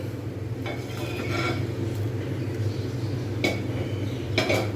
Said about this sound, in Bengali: এইবার আমি এর মধ্যে আস্তে আস্তে করে মাছগুলোকে আমি ঢেলে দেবো